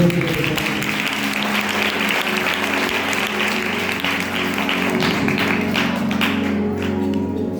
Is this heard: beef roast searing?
no